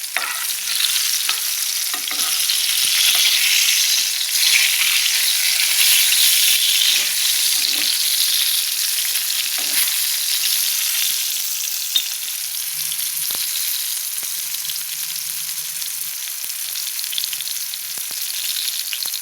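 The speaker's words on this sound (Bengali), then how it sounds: "ভাজা হয়ে গেল, তো বেগুনটা এবার আমি তুলে নিচ্ছি" Eggplant frying in a wok, a loud, dense sizzle of oil with repeated spatula stirs and scrapes breaking through, holding strong for the whole stretch without any speech.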